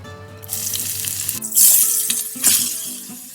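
Grated carrots drop into hot ghee in a pan and sizzle, a sharp burst of frying followed by stirring swells, close and loud.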